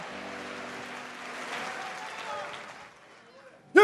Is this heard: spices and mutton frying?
no